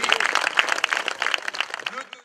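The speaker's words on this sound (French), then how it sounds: "Madame, monsieur, de nouveaux applaudissements à Olivier Legac." Audience applause at an outdoor cyclo-cross prize ceremony in Kerlouan-Ménéham, dense rapid clapping throughout at moderate loudness, with a voice speaking over it and the applause thinning out at the end.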